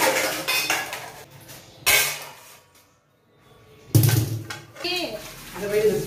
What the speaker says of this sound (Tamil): பாத்திரம் ஃபுல்லாக விளக்கி முடிச்சுட்டு